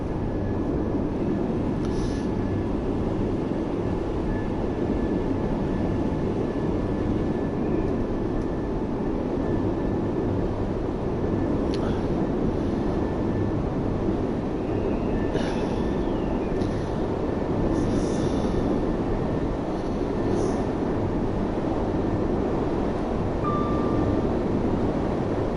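A simulated train on the Edinburgh–Glasgow line in Train Sim World 3 runs with a steady, dense rolling roar and faint high flange squeals scattered over about half a minute, with no voices.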